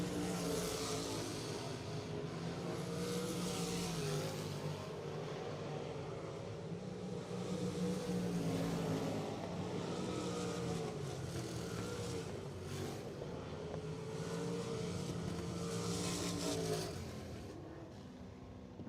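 Race cars circling the New Egypt Speedway track, a continuous roar of engines swelling and fading as they pass, loud and sustained without voices.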